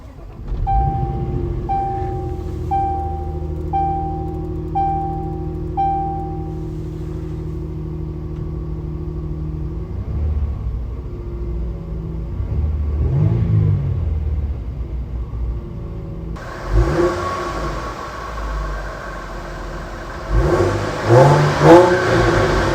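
A 2017 Land Rover Discovery HSE engine cranks and catches after a stretch of dashboard chimes, idles with a low rumble, then revs up loudly a few times near the end.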